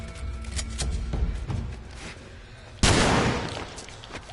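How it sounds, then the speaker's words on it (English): Shotgun blasts in The Last of Us, a run of sharp thumping reports in the first half, then one loud broadband burst near the end, heard alone. "we heard a shotgun blast"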